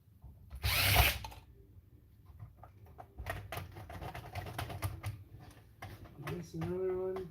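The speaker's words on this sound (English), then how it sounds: "Got a couple screws to pop out here." A power drill backing screws out of scrap electronics, a short loud whir near the start followed by clicks, handling clatter and mechanical rattles, with someone talking over much of it.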